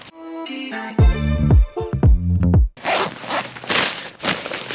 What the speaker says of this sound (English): if you carry on undoing the zip all the way around, the zips just go and sort of end